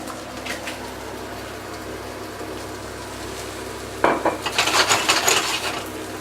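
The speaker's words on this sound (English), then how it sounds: "Let it cook for a little while just to get your onions and garlic sauteed really well" Diced onions and garlic sautéing in a pan for a chicken roulade: a quiet stretch, then a louder, close crackling sizzle that jumps in about two-thirds through and keeps going unevenly.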